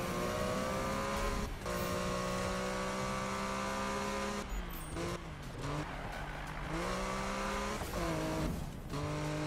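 Porsche in the 2015 Need for Speed racing game driving through night traffic, its engine droning steadily with shifting revs and brief tire squeals, loud and continuous with no talk.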